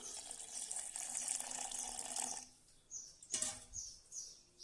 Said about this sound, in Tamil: இதில் வந்து கொஞ்சமாக தண்ணி சேர்த்துக்கலாம்